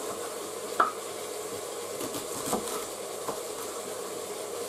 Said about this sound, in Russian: Режем лук